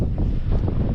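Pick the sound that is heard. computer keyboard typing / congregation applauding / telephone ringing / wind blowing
wind blowing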